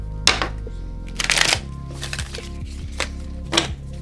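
A deck of affirmation cards is shuffled close by, with crisp riffling bursts and soft flutters interspersed with light tapping and handling.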